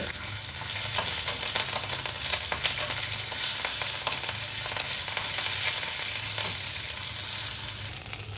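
Green chillies fry in hot ghee during a tempering for dal with raw mango, giving a loud, continuous close-up sizzle and crackle that runs steadily throughout with no voices.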